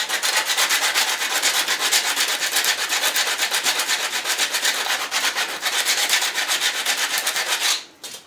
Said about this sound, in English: you can see that the sandpaper works great